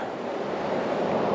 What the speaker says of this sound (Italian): Questa è la cascata di Storo, c'è un'acqua fantastica